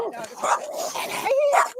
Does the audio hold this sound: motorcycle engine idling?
no